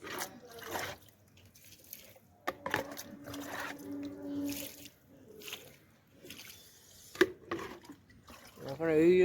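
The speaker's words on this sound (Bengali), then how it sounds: "এটা জল দিয়ে দিই।" Water poured onto a potted marigold plant, producing soft intermittent splashing and trickling, close by and fairly quiet, with a person talking through much of it.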